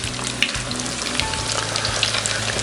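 Crappie fillets fry in hot grease, a dense continuous sizzle with small crackles and pops, loud and close with no talking.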